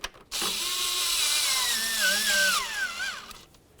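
A ratchet tool turning a bolt on a Dodge Journey engine during spark plug replacement, a continuous whirring mechanical buzz held for about three seconds before cutting off, close and loud with no talk.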